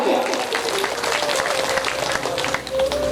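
A gathered audience claps in a lively, uneven patter while a voice keeps talking over it, the clapping rising and dipping near the end.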